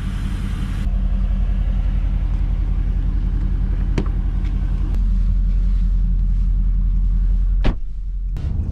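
A Mercedes-AMG GT C Roadster driving, its engine a steady loud rumble heard from close by, with a couple of sharp clicks and a brief dip near the end.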